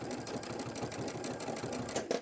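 Baby Lock sewing machine stitching with a convertible free motion foot, a close, fast, steady mechanical chatter of needle strokes with a brief louder clack near the end and no talking.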